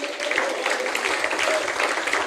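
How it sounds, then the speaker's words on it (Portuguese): A church congregation at an Easter-series service claps together in a brief, even burst of applause of moderate loudness, with faint voices mixed in. "Pode aplaudir ao Senhor."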